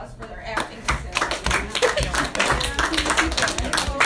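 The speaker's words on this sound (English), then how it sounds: "deserve a round of applause for their acting" A high school health class applauds two students for their acting, with scattered, uneven clapping from many hands mixed with chatter and voices, close and fairly loud throughout.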